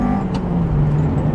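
A Honda CRX race car on a track pulls hard after a shift into third gear, its engine note steady and loud from inside the car with a low rising drone, very brief and without talk.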